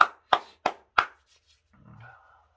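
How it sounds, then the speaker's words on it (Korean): Four sharp, evenly spaced hand claps from a church congregation, close and crisp, followed by a brief faint murmur of voices. "주님께 영광의 박수합시다"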